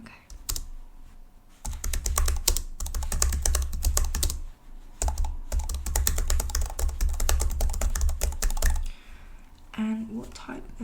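Fingers type on a computer keyboard in fast, crisp bursts of clicking, close and steady. Brief pauses separate the bursts, and soft speech is heard near the end.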